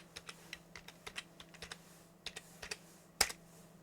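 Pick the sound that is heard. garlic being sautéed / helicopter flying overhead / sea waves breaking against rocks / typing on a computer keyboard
typing on a computer keyboard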